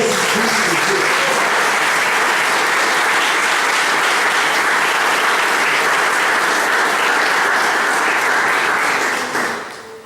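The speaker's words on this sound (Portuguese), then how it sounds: "Aplauda Jesus Cristo." A church congregation applauds steadily and loudly, dense clapping filling the whole stretch before tapering off at the very end.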